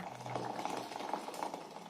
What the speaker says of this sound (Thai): เทน้ำร้อนที่เดือดจัดราดลงไปให้ทั่วๆ ใบชาเลยค่ะ